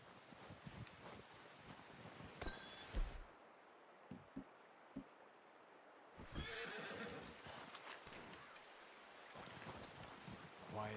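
A horse whinnies in a video game, with clip-clopping hooves and wind noise, the sounds rising and falling in loud bursts over about ten seconds, followed by a brief quiet stretch.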